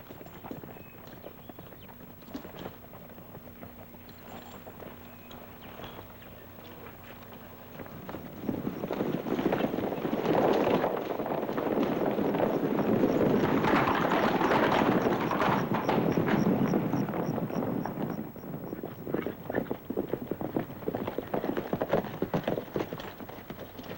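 Hooves clatter in a rapid rhythm as horses gallop in a 1940 western film, growing louder and closer midway then easing off, with a breezy rush behind them.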